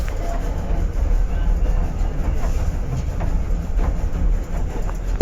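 A narrow gauge steam train, locomotive number 6, Type 22, on a preserved heritage railway in Norway, rumbles steadily along the track, a continuous low running noise with faint rhythmic clatter, heard close from aboard.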